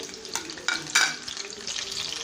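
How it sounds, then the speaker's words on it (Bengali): Chopped onion dropped into hot oil in a pan, a bright crackling sizzle with a few sharp spatter bursts early on, then settling into an even frying hiss, close up with no talking. "এরপরে তেলটা গরম হয়ে আসলে আমি এর ভিতরে দিয়ে দিচ্ছি পেঁয়াজ কুচি"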